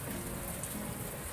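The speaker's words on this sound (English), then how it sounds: "Why it's getting hail?" Hail comes down steadily outdoors in Germany during a hailstorm, a dense, even patter across surfaces that is fairly faint and continuous with no voices.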